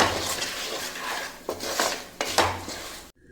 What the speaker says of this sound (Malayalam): ഒരു സ്പൂണ് മഞ്ഞൾപ്പൊടിയും കൂടെ ചേർത്ത് കൊടുത്തു ഇനി നന്നായിട്ടൊന്ന് മിക്സ് ചെയ്യാം